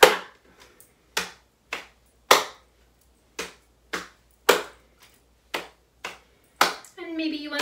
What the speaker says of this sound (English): The second pattern we're going to learn is a brush,